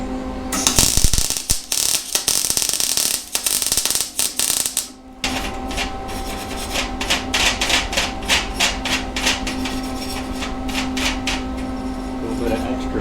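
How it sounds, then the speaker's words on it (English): Welding a nut onto a square steel tube: a loud, dense crackling arc hiss runs for several seconds, stops briefly, then resumes as a series of short, rhythmic crackling bursts, close and steady throughout. "we've got to weld a nut to this square piece of tube, and then we've got to weld a nut to this guy"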